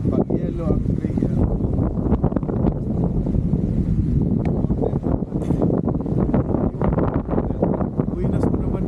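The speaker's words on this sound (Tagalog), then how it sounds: "Biglang lumakas yung hangin." Strong wind buffets the microphone at an outdoor long-range rifle shooting spot, a heavy, continuous low rumble and roar, with people talking underneath.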